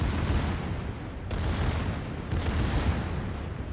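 Secondary guns of the battleship Pommern fire in World of Warships, two heavy booming volleys over dense rumbling battle noise, loud and close, with no voices.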